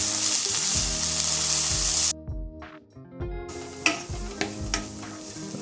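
Sliced large onion and curry leaves sautéing in a pan, loud bright sizzling that cuts off abruptly partway through, then returns more softly with repeated spatula scrapes and knocks.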